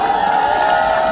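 A crowd at an outdoor political rally in Jeju for Democratic Party candidate Lee Jae-myung claps and cheers in a dense, continuous roar of applause and voices, close and loud throughout.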